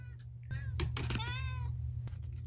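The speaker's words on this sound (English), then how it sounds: "Here comes my kitty." A pet cat meows nearby in a quiet room, a few drawn-out rising and falling calls in quick succession over a low indoor hum.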